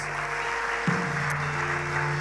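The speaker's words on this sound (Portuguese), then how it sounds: "Dê uma salva de palmas ao Senhor." A church congregation applauds during a worship service, a steady wash of clapping under a sustained keyboard or organ chord that shifts pitch partway through.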